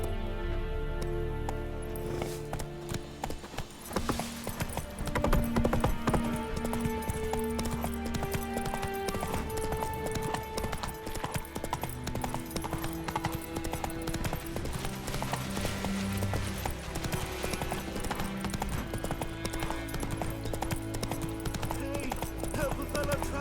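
Hooves of the horse Roach clip-clop steadily at a gallop in The Witcher 3 video game, loud and continuous over game music, with a brief whinny and faint background voices.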